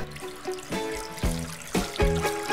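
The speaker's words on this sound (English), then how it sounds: "In your pan, add water and butter." Water pours into a cooking pan for choux pastry dough, with bright ringing splashes and gurgles arriving in uneven bursts, close and clear with no voices.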